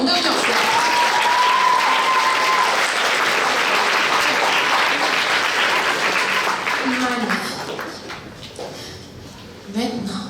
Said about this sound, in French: On les applaudit encore, une dernière fois.